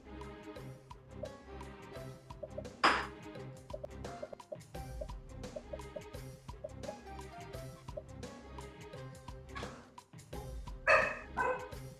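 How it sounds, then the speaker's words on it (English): A pet dog barks in the background of a home, faint and intermittent, with a few short yips spread across the stretch under a steady hum. "You hear my dog barking in the background there."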